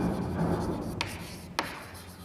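Faint pen strokes as an address is written on paper, soft scratching over a steady low room hum with two brief sharper ticks.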